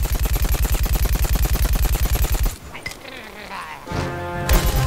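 A weapon in Plants vs. Zombies Garden Warfare fires a loud, steady rapid stream of shots for about two and a half seconds. Quieter game effects follow, then a swelling rumble and a final sharp burst.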